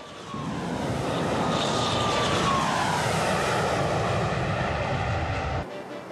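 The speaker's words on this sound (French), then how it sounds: "Les 2 avions vont grimper dans la tourmente." Two airplanes climbing into turbulent weather, their engines giving a loud, steady roar that swells in and holds before cutting off abruptly near the end.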